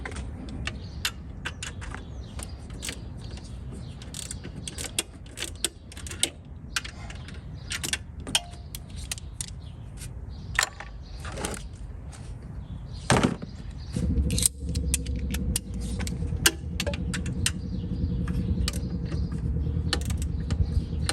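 Ratcheting and clicking of a wrench tightening the lower 14 mm bolt during an alternator replacement on a Toyota Corolla, irregular metallic ticks in a cramped engine bay, with a steady low mechanical hum joining partway through.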